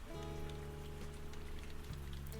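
Steady, dense rain patter under soft Animal Crossing New Horizons background music with sustained low tones, continuous and even throughout.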